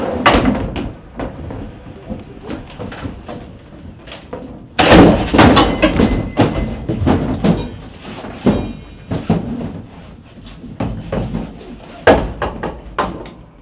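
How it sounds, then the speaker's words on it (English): Firefighters force a door with a Halligan tool: a run of loud, irregular metallic strikes, bangs and scraping, with a heavy impact about five seconds in and repeated blows after it, close by and with no talk. "The firefighters are now ready to force this door."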